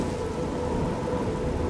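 Rain and distant thunder from the video game Oblivion form a dense, steady roar of rainfall with low rumbling underneath, unbroken and fairly loud, with no voices.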